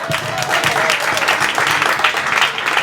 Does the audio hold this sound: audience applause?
yes